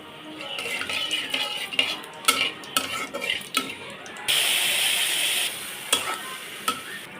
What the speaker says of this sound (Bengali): পাঁচফোড়নটা তেলে নিয়ে এর ভিতরে আমি এখন শাকটা আবার ঢেলে দিব।